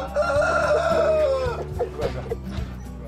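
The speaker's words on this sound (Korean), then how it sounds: "포도 농장에서 들리는 때 아닌 닭 울음소리" A rooster crows in a long, rising then falling call from a coop on a grape farm, with other chickens clucking faintly around it.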